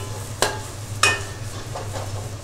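Fenugreek leaves frying in oil with chicken pieces, with a steady low sizzle broken by two sharp nearby clatters of a spoon stirring the pan and a fainter scrape near the end.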